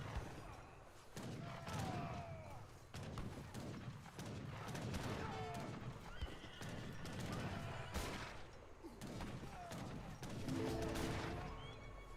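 Hussar cavalry charging against longbowmen in the Age of Empires 3 strategy game, with dense battle noise of thuds, gunfire-like cracks and horse whinnies running steadily and loudly throughout.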